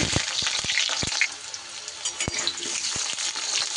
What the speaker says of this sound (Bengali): তেল গরম হয়ে গেলে সবার প্রথমে আমি আলুগুলোকে একটু ভেজে নিই।